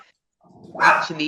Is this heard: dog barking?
yes